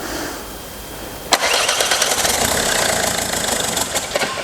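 A Ford diesel car, refitted after a timing belt job with its fuel lines disconnected and reconnected, cranks and fires up. The start is abrupt after a quiet lead-in, then a loud, rough running engine rattles steadily to the end.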